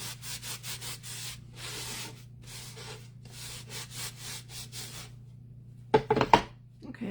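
Chalk paste rubbed by hand across a wooden reindeer sign, a steady run of close scratchy strokes in repeated bursts over a low hum, ending in a few louder knocks.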